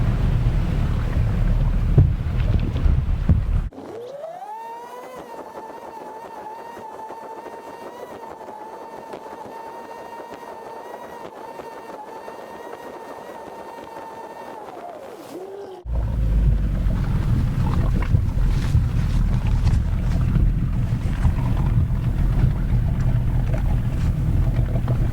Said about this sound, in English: Got a few power boats coming in here.